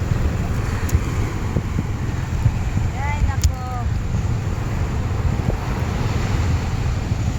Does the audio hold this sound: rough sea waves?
yes